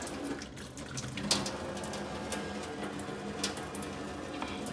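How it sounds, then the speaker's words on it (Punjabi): Water draining from boiled rice through a strainer, a steady soft rushing and trickling of liquid that runs continuously and fairly quietly throughout. "ਹੁਣ ਛਾਲਣੀ ਨਾਲ ਨਾ ਸਾਰਾ ਇਹਦਾ ਪਾਣੀ ਨੁਚੜ ਜੂਗਾ ਚੰਗੀ ਤਰ੍ਹਾਂ"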